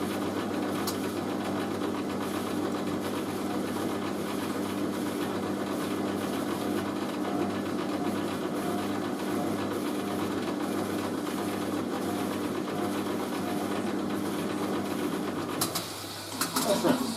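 A Hoover A3060 Electronic 1100 washing machine runs its woollens 40ºC programme, giving a steady, continuous hum and churning drone throughout, with a brief click and shift near the end.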